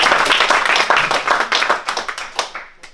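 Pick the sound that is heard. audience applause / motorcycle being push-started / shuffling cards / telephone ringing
audience applause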